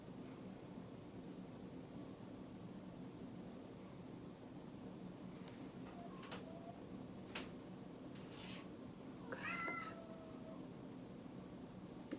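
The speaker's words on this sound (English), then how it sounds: "You can hear my cat crying to get in here." A cat meows several times from behind a closed door, faint and muffled, a few short cries spread out over a steady low room hiss.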